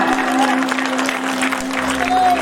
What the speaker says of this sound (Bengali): তাদের জন্য একটা জোরে হাততালি দিন